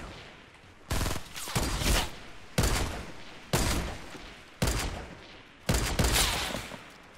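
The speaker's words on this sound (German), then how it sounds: "der kann voll schnell schießen" Bursts of rapid gunfire in Fortnite Battle Royale come as five separate loud volleys, each about a second long and evenly spaced.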